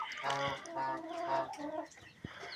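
Chickens cluck and squawk close by in a backyard coop as a rooster chases a white hen, the short agitated calls coming in bursts with a little background voice.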